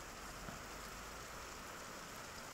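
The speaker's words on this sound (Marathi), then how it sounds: "सिल्लोड तालुक्यात मुसळधार पाऊस सुरू आहे" Heavy monsoon rain pours down steadily over Sillod taluka, a quiet, even hiss with no break.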